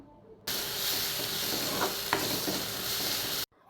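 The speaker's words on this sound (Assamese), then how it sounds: "এতিয়া এইখিনি অকণমান সময় ভাজি ল'ম।" Crushed ginger and garlic paste fry in a pan, starting abruptly as a loud, close hissing sizzle that runs steadily with a couple of light stirring taps before cutting off sharply.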